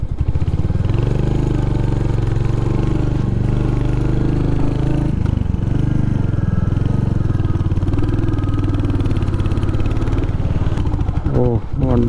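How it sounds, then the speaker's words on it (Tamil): A Royal Enfield Hunter 350 motorcycle engine labours in third gear while climbing steep hairpin bends on a mountain road, a steady close low drone running throughout with voices talking over it. "வண்டி திணறுது பயங்கரமாக."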